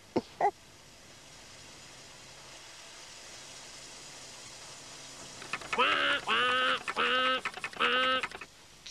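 Four loud, raspy duck quacks in quick succession near the end, after a few seconds of low background hiss and an early brief click.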